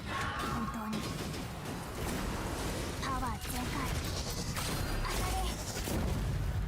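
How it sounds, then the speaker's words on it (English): Explosions and combat effects from the video game Honkai Impact 3rd crack and boom in bursts over busy game music and sound effects, with punchy impacts scattered throughout. "Boom, explosion."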